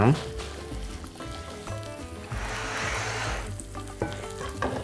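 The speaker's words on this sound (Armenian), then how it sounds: "Վերադառնանք տապակվող բաղադրիչներին, դա սոխն է և պղպեղը" Onion and pepper fry in a pan, a steady crackling sizzle with bursts of stirring and scraping, growing briefly louder midway, while a voice talks over the cooking.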